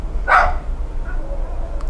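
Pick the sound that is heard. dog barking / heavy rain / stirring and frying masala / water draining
dog barking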